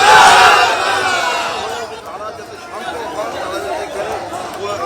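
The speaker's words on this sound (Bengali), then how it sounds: "জয় বাংলা স্লোগান দেওয়া হয় তৃণমূলের পক্ষ থেকে, আর পাল্টা জয় শ্রীরাম স্লোগান দেন বিজেপি কর্মী সমর্থকরা" A loud crowd at a political camp office in West Bengal shouts rival slogans, Joy Bangla from TMC supporters against Jai Shri Ram from BJP workers, with overlapping voices close by that ease slightly after the first second.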